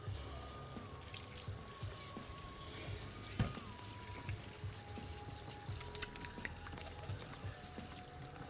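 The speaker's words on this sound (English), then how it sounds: "then I'll wash my hands one last time" Tap water running steadily into a kitchen sink while hands are washed after preparing scallops for searing, a continuous soft pour with faint splashing and occasional small clinks, no talking.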